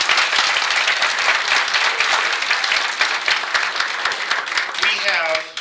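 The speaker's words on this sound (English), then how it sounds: "please applaud for Jim and Elizabeth" Audience applause at a presentation in Sun Valley, dense sustained clapping from a crowd, loud and continuous, fading at the end as a voice begins speaking.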